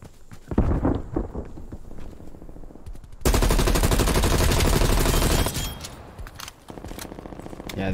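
Loud sustained automatic gunfire in a Call of Duty Cold War multiplayer match, scattered shots and footsteps first, then a dense continuous burst for about two seconds, followed by lighter firing.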